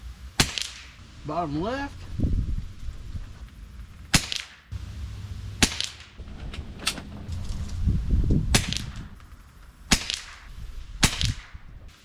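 Keystone rifle shots at a 50-yard range ring out as sharp, loud single cracks spread across the clip, with a brief voice in between and low rustling handling noise.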